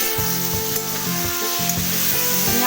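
Potatoes fry in hot oil in a pan, giving a close, steady sizzle that runs throughout with no voices.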